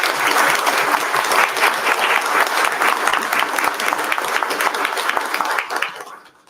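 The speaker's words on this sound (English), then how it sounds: "please give them another round of applause" A room full of attendees at a school district board meeting breaks into sustained applause, dense and even clapping for several seconds that thins and fades at the end.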